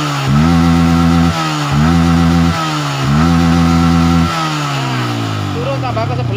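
Motorcycle engine with a faulty voltage regulator, revved under throttle in three sustained bursts that each drop back toward idle, then a slower, falling rev at the end, loud and close.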